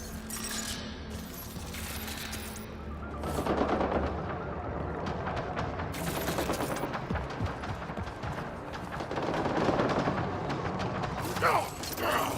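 Gunfire and combat in Mass Effect: Andromeda, scattered shots and mechanical clatter running under game character voices shouting during a firefight, with a busy, cluttered mix.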